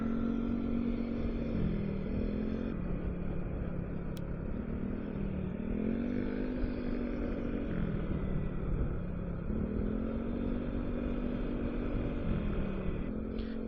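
A Yamaha XMax scooter hums steadily on the ride toward Fraser's Hill, its engine drone rising and falling gently with the throttle, close and constant with no talk.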